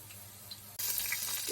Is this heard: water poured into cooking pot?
yes